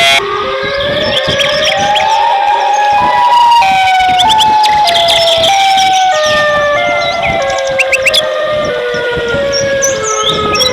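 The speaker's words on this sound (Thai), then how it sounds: "ปุ๊บจะเปิดเสียงไซเรนเพลนะ" Loud, continuous sirens wail and sweep in overlapping tones, several emergency-style pitches rising and falling together without pause.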